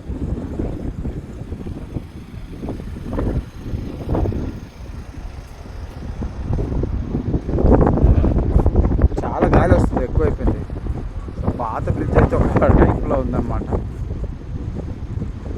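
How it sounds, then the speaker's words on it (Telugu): Strong gusting wind at the seashore in Rameswaram roars across the microphone in heavy, uneven bursts, with a voice partly buried beneath the buffeting. "అంత గాలి వస్తుంది గట్టిగా పట్టుకుంటున్నాం కాబట్టి సరిపోతుంది"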